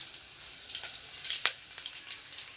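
Mustard seeds, garlic and curry leaves sizzling in hot oil in a home kitchen, a steady close crackle with a few sharper pops and spits standing out, no talk.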